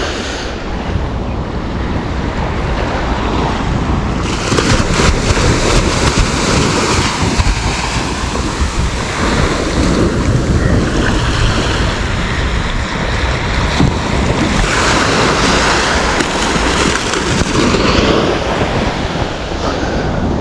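Sea waves on the beach at Malvan on the Konkan coast, a steady loud wash of surf with heavy wind rumble on the microphone and no talk.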